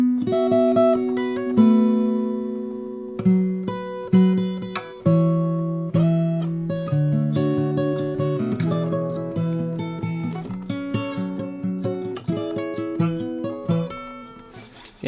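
Fingerstyle acoustic guitar plays the second verse of a song, plucked notes and bass lines ringing out clearly in a flowing, syncopated pattern, close and alone.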